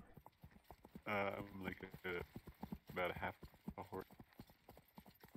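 Horse hooves clip-clop in the video game New Frontier in a cowboy setting: a quick, steady rhythm of light hoofbeats throughout, with people talking over it.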